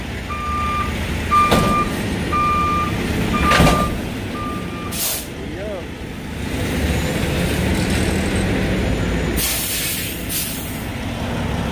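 A truck backs up to connect double trailers, its steady reversing beeps pulsing under a loud diesel idle, followed by sharp hisses of air brake release.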